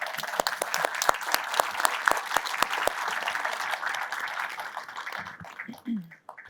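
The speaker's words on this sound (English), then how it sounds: "if we could have a round of applause for our panelists" An audience at an art and design education panel applauds the panelists: crisp, close claps sharpen a full round of clapping, which thins and fades near the end.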